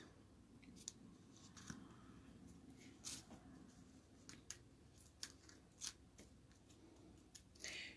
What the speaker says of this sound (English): Cut that off.